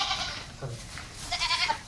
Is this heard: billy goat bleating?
yes